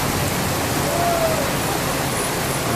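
Heavy rain pours down at the Pondok Pinang bus terminal as a bus pulls in, a steady, dense hiss of downpour that stays constant throughout with no pauses.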